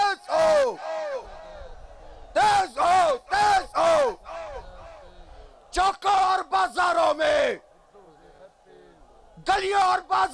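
A large crowd at a political sit-in against election rigging chants the takbir slogan in loud, rhythmic bursts of massed voices, each shout separated by short pauses, close and powerful.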